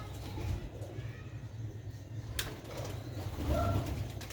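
Sialkoti Ali pigeons, an old pure breed kept by fanciers in Sialkot, coo faintly in low throaty bursts against steady background noise, with a brief sharp click partway through.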